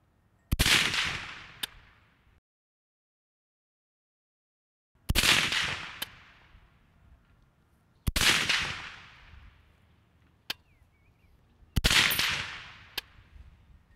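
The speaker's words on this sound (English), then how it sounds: "I'm gonna have Emery send us that next 5-round shot group." Rifle shots from a scoped rifle being zeroed at a range, four sharp loud cracks spaced several seconds apart, each trailing off in a reverberant decay with faint metallic clicks between.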